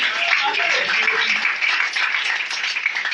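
Church congregation applauding in praise of Jesus during a worship service, a steady dense wash of many hands clapping that holds evenly throughout without pause.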